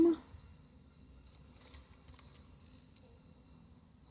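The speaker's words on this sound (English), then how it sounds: "Why are there crickets in here?" Crickets chirp in an indoor area of the video game Dead Space (2023 remake), a faint steady high-pitched trill holding quietly under a low ambient hum.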